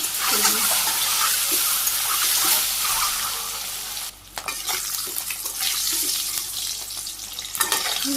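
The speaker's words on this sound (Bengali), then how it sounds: "তেল গরম হয়ে গেছে সবগুলো ছেড়ে দিই" Food sizzling and frying in hot oil in a Bangladeshi village kitchen, a steady crackling hiss with occasional stirring clatter and a brief dip midway, fairly close and loud.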